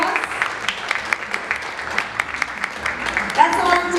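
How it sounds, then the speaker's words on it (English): An audience claps steadily for about four seconds, a dense even patter of many hands at moderate distance, with a voice briefly rising near the end. "Ladies and gentlemen, a big round of applause."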